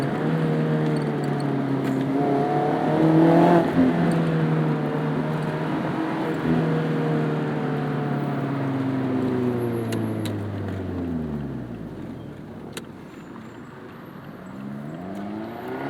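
A Mazda MX-5 Miata running on E85 drives through a canyon road, its engine droning steadily inside the cabin. The note rises and falls through the gears and eases off near the end, with no talking.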